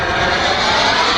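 A CARF Models F-4 Phantom RC jet, a roughly 100-pound scale model carrying ordnance, flies at an event, its turbine roaring loud and steady throughout with no pauses.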